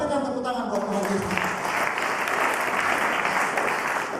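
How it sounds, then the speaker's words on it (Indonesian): Congregation applause at a worship service held in Cipinang prison, a dense continuous clapping from many people, loud and sustained, with a voice heard over the start. "Dengan tepuk tangan buat Tuhan Yesus"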